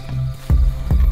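Rocks falling in The Rake horror video game, two heavy low thuds about half a second apart, loud and close, with a faint rumbling tone before them.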